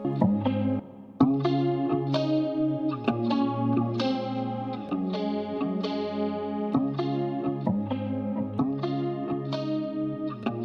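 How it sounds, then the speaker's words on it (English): A steady trap beat made in FL Studio with chords and drums, washed in reverb and a chorus-like shimmer, playing continuously with no voices. "So I'm just gonna add some reverb"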